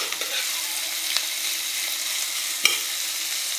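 Onion, tomato and ginger paste fries in a wok with a steady, close sizzle while a spatula stirs it, adding a few sharp scrapes and taps, for an egg omelette curry.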